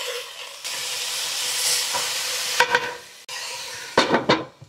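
Sausage, broccolini and garlic penne steams and hisses in a pan, a loud continuous hiss broken by a few scraping stirs near the end.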